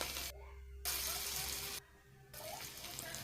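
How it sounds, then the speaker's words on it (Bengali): Gram flour coated kachori frying in hot oil, a steady hissing sizzle with two brief gaps where the sound drops out, close and moderately quiet. "অ্যান্ড বেসনের সঙ্গে আমরা মাখিয়ে আমরা গরম তেলে দিয়ে দিয়েছি।"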